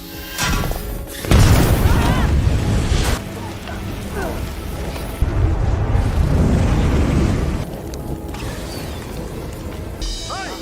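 A thrown gas canister blows up in an action film, with heavy booming blasts and rumbling debris, loud and close, mixed with mechanical clanks and creaks between the hits.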